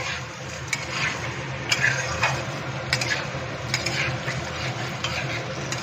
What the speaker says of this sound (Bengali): ডালগুলোকে দিয়ে আমি তেলের মধ্যে ভালো করে একটু ভাজা ভাজা করে নিয়ে